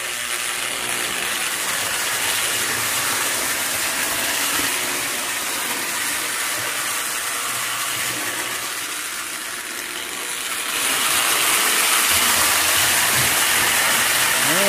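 A Lionel Scout toy train set from 1948–1952 runs on its track carrying added weight, producing a continuous close mechanical whir and rumble that grows louder toward the end, with no talking.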